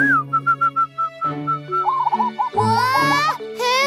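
A short whistled note repeats in quick pulses, then a zebra dove answers with warbling whistle-like calls mimicking it, bright and close.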